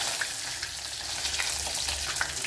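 Fenugreek, mustard seeds and green chili fry in hot oil for a fish curry tempering. A dense, loud sizzle runs throughout, dotted with small crackling pops and no talk.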